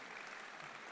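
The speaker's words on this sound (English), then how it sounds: "round of applause" A crowd at a high school graduation ceremony claps for the teachers, a dense, even wash of applause heard faintly from a distance.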